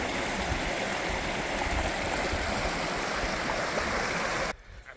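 Stream water flowing past a small makeshift dam near a track at Dwellingup, a steady close rushing wash that fills the clip before dropping off abruptly near the end.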